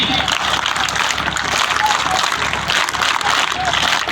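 A large audience of students claps together steadily at an annual school gathering, a dense, loud and continuous wash of applause with no gaps.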